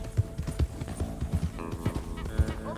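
A horse gallops in the video game Red Dead Redemption 2, its hooves beating in a quick, uneven clip-clop rhythm with gear rattling, loud and close, while voices talk and a whinny-like cry rises near the end.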